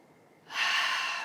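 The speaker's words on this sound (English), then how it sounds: "let's begin with a nice deep breath in through the nose" A deep inhale through the nose during a guided meditation exercise, quiet at first and then swelling into a loud, airy rush of breath held steady for most of a second.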